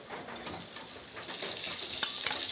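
Fish frying in a pan in a home kitchen, a steady bright sizzle of hot oil with a couple of sharper pops near the end, close and continuous with no talking.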